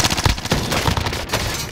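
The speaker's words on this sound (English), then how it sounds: "Taking fire!" Rapid automatic gunfire in the shooter game Call of Duty Warzone, a dense, loud burst of overlapping shots rattling continuously for under two seconds, close and harsh.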